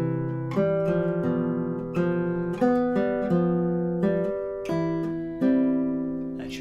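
A guitar plays the opening phrase of Sagreras Book 1, Lesson 56, as clear single plucked notes over ringing bass tones in a steady, unhurried rhythm, close and alone.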